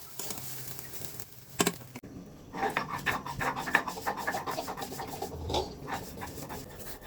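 Fried dried shrimp (chingri shutki) being ground into a mashed bhorta by hand, giving repeated close rubbing, scraping and rasping strokes in an irregular rhythm with no talk.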